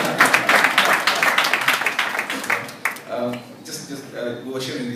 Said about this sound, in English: You can clap at me.